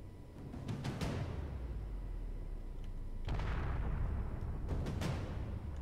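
Explosions from blowing things up in Space Engineers, modded co-op survival, roll out as a series of heavy booms and cracking bursts over a continuous low rumble, several detonations closely spaced.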